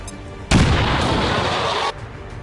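A grenade blast in the video game XCOM 2: one loud, broad explosive roar that bursts in suddenly and sustains for over a second before cutting off, set against quieter game ambience.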